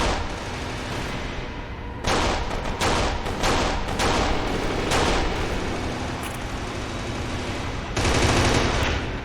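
Rapid gunfire bursts from the Kane and Lynch 2 Dog Days video game on Xbox, played in extreme mode: dense, loud volleys with sharp individual shots, a brief lull, then another heavy burst near the end, with no talking.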